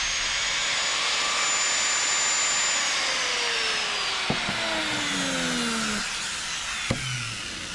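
An angle grinder with a freshly replaced gear set runs steadily at high speed, giving a loud, even whine and whirr that holds throughout with a few sharp clicks near the end.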